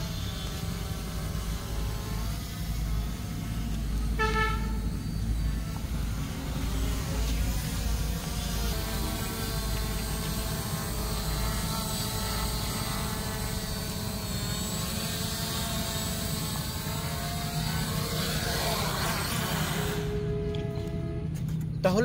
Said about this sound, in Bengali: এখন আমরা আস্তে আস্তে ড্রোন ক্যামেরাটি নামাই নিব